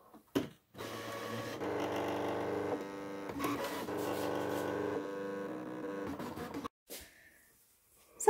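ScanNCut DX cutting machine making a half-cut test cut in vinyl on its mat, a close mechanical whir of motors and carriage movement in several steady runs with brief pauses, ending in quiet.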